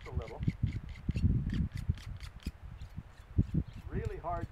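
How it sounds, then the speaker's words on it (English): A knife sharpener grinds a serrated blade at an outdoor overlook with steady, rhythmic rasping strokes, about ten close, even scrapes, with a faint voice at the start and end. "I'm going to bear down on my sharpener just a little"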